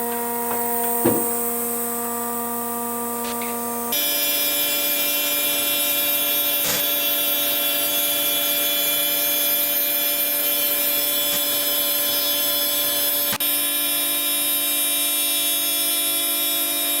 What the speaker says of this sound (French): là elle va faire plusieurs passes dans le bois